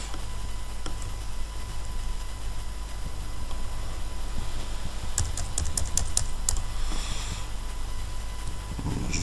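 Keystrokes tapped on a computer keyboard while entering a value into a MySQL table, a steady background hum underneath and a short quick burst of clicks near the end.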